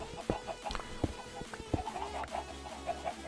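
Blocky in-game chickens cluck in Minecraft's Sky Factory 3 modpack, a scattering of short, fairly close clucks and pecks repeating irregularly over a steady background.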